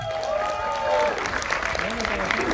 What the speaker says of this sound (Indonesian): beri tepuk tangan yang meriah untuk Mbak Linda Adu, pemeran Orma.